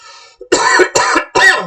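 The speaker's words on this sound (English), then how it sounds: "Sorry, I have a bit of a cough." A person gives three harsh, throaty coughs in quick succession, loud and close, just after a short throat-clearing sound.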